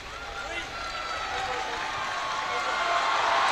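A crowd at an under-18 schools rugby union final at StoneX Stadium gives off a steady, broad roar of cheering that swells gradually louder toward the end.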